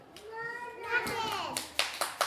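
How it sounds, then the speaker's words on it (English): A young child in an early years classroom claps his hands: a few sharp, close claps in quick succession come after a voice speaks. "He's clapping."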